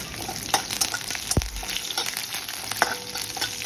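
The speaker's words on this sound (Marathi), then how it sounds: "त्यानंतर आपण थोडे ह्यात काजू घालून ते परतवून घेऊया." Cashews being sautéed in a pan for a fasting-day bhagar (barnyard millet) dish, giving a soft, steady sizzle with a few scraping stirs and light clinks of the spoon, close by and with no talking.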